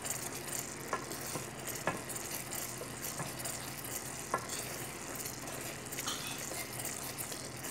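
Food simmers and sizzles in a pan, a soft continuous crackle and bubble with occasional small clicks and scraping taps, fairly quiet and close, with no talking.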